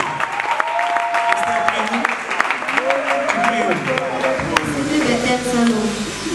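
An audience at a children's gospel event claps throughout, a dense, steady patter of many hands, with voices speaking over it.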